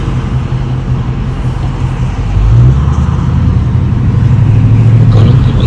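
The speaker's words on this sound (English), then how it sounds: "going to show you how this thing screams" A 2022 widebody Dodge Charger ScatPack with a 392 Hemi V8 rumbles steadily and loudly, its deep exhaust note swelling as it passes through an underpass, with no talk over it.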